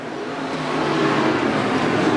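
IMCA modified race cars roar around the USA Raceway dirt track during a main event, their engine drone swelling steadily louder as the cars approach, with no talking.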